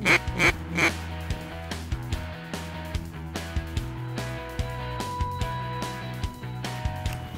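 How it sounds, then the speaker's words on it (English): Ducks quack during a waterfowl hunt, a loud burst of close calls opening the stretch, followed by a steady run of quieter repeated quacks at a regular rhythm. "The ducks have been coming in pretty frequently this week"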